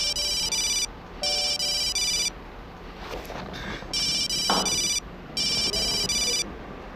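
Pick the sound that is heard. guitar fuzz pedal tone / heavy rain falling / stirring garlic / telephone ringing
telephone ringing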